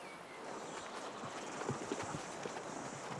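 A horse walking near a river in New Zealand, its hooves clip-clopping faintly and steadily over a soft outdoor wash of water and ambience.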